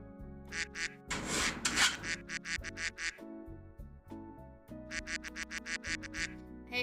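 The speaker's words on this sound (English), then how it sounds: "if you click the quack sound effect, a lot of times in a row it does a little duck confetti on Discord" A cartoonish duck quack sound effect from Discord, triggered many times in quick succession, forming rapid bursts of repeated quacks with a brief noisy flourish in between.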